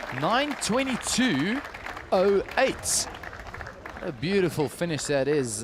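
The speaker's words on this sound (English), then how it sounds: "Big round of applause by her teammates." Swimming teammates cheer and clap poolside at a swimmer's finish during Grand Prix heats in Stellenbosch, a lively crowd sound running under a commentator who talks throughout.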